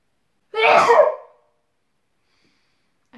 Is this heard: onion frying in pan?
no